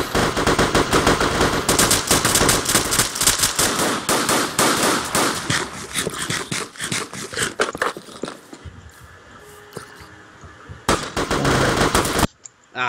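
Rapid automatic gunfire in a video game with friendly-fire damage, dense bursts of shots filling the first half, then sparse shots and quieter stretches before another loud burst near the end.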